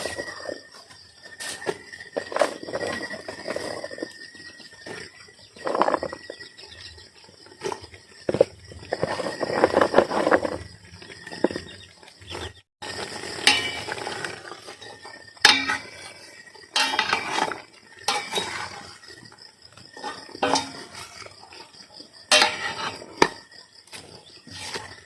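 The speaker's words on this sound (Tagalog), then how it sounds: "Guys, kumulo na. Ilagay na natin itong gulay na ampalaya." Bitter gourd (ampalaya) pieces go into a pot of boiling coconut milk, with a long series of clinks and scrapes of utensils against the pot and soft splashes over a quiet kitchen background.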